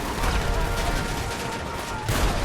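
Rapid gunfire in GTA 5 during a police chase, a dense continuous rattle of shots that stays loud throughout and briefly swells near the end.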